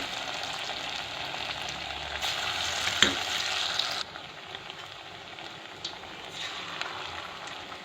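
Several chicken pieces for chili chicken dropped into hot oil, producing a loud, bright frying hiss that surges, pops once, then settles into a softer steady sizzle close by.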